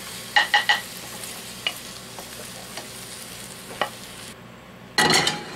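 A spoon or spatula clacks sharply against a pan while vegetables for pansit bihon are stirred over a soft sizzle, with a louder scrape and clatter at the end.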